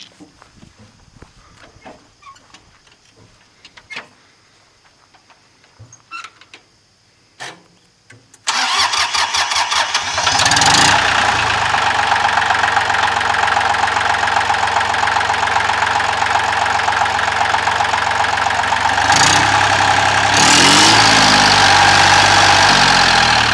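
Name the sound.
Ford 1710 compact diesel 4x4 tractor starting and idling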